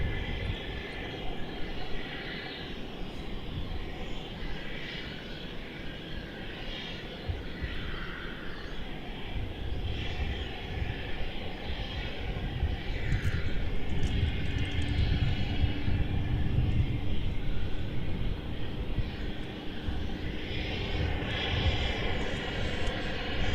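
An airliner at Melbourne Airport departing on a long flight to LA, its jet engines a sustained distant rumble and roar that swells gradually louder throughout.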